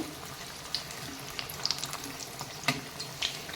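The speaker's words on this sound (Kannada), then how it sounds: "ಎಣ್ಣೆಯಲ್ಲಿ ಬಿಡುತ್ತೆ ಅದು ನೋಡಿ ಬಿಟ್ಟೀಗ ಚೆನ್ನಾಗಿ ಇದು ಈಗ ಫ್ರೈ ಆಗಲಿ ಎಲ್ಲ ಕಡೆ" Stuffed capsicum bajji frying in oil, giving a steady close sizzle with occasional sharp pops and crackles.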